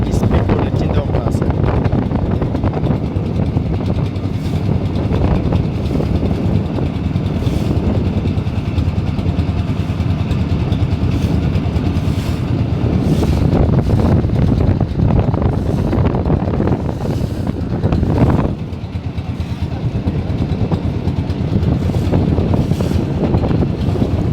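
A trawler boat travels along a river through haor wetland country, its steady engine drone buried under heavy, continuous wind buffeting the microphone, with voices talking at times.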